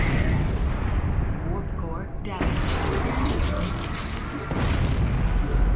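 Starship weapons fire at a Borg cube during a Star Trek: Bridge Crew mission, with dense, continuous booming blasts and rumbling impacts filling the scene, loud and close, with crew voices talking over the barrage.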